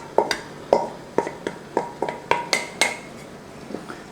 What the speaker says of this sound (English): And give it a stir around.